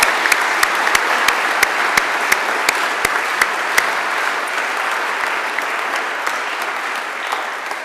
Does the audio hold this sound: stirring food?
no